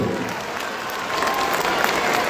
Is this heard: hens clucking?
no